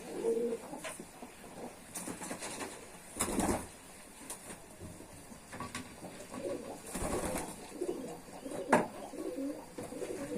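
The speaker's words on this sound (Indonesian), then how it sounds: "Ini ada merpati silver" A silver pigeon that is moulting coos softly at close range, with a few faint wing flaps and light rustling over a quiet background.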